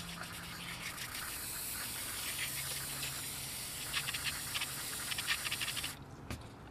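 Brake cleaner is sprayed onto a car's front brake in a long, continuous aerosol hiss that holds steady for about six seconds and then cuts off abruptly.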